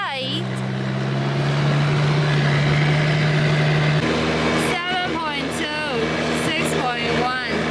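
Small motorized dinghy running flat out on open water, a steady engine drone throughout with a dog aboard, while people talk and call out over the motor in the second half.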